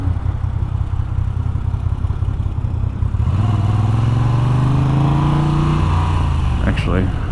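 A 2021 Moto Guzzi V7 850 motorcycle engine rumbles steadily during city riding, its pitch rising sharply as it revs up for quick acceleration midway, loud and close throughout.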